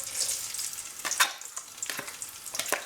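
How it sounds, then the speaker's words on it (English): Onion dropped into hot oil in a home kitchen sizzles and crackles steadily, with a few sharper pops and stirring scrapes, close and moderately loud with no speech. "add in my onion"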